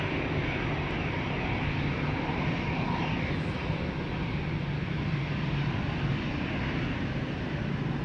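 An EasyJet Airbus A319, sixteen years old and first flown in July 2008, rumbles steadily at Amsterdam Schiphol Airport during departures, a broad, continuous engine roar at moderate distance with no talk.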